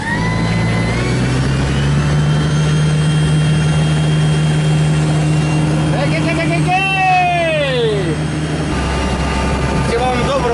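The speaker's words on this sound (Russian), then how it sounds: "Я запускаю электромотор." A glider's electric motor starts and runs with a loud, steady whine, its pitch sweeping up and down partway through, then dropping lower near the end.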